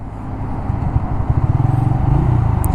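A Bajaj Freedom 125 motorcycle rides along a road, its low engine note steady and close, rising slightly in pulsing throbs toward the end with no talk over it.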